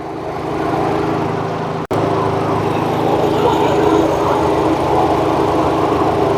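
A 2013 Audi A4 engine idles quietly, a smooth, even hum heard up close, broken only by one brief cut in the sound early on.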